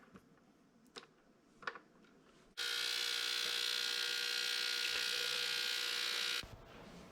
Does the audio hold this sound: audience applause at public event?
no